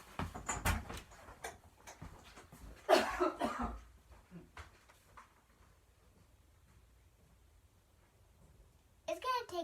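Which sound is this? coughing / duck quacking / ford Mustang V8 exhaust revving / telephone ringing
coughing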